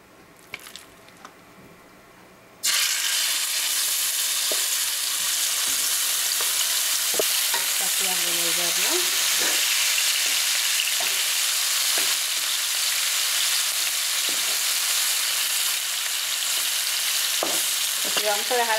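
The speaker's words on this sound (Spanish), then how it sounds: "Vamos a, a freír ahí nuestro pollo." Chicken pieces frying in about two tablespoons of hot oil in a pan, a loud, steady sizzle that bursts in abruptly after a quiet start and runs on with scattered pops and crackles.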